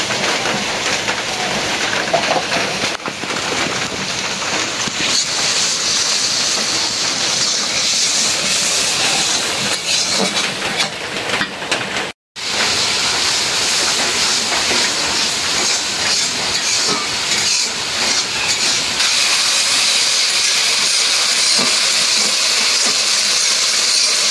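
Spice paste of turmeric, chili, coriander and cumin powders sautés in a pan, giving a loud, constant, close hiss of frying that barely drops for over twenty seconds, with one brief break.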